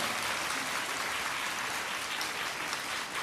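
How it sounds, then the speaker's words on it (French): Dense, thunderous applause from a large crowd at a luncheon honouring the gendarmerie at the Palais de la Marina in Benin, a steady unbroken roar of many hands with no separate claps standing out. "à travers ce tonnerre d'applaudissements"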